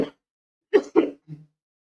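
A man clears his throat and coughs during a Hindi lesson, with a brief rasp followed by two sharp close coughs and a softer trailing grunt, all separated by silence.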